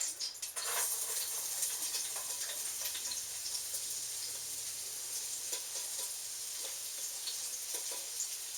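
Onions and garlic sizzle steadily in a pan over just-above-medium heat as the base for collard greens, a continuous close frying hiss with a few faint clicks and no voices.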